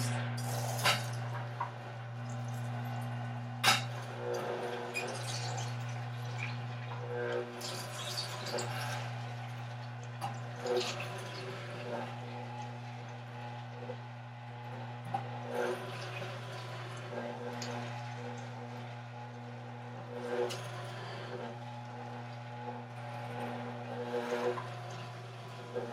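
A Super Angel juicer grinding aloe vera leaves, a steady low mechanical motor hum continuing throughout with intermittent soft squishing, crunching and clicking as the leaves are fed through.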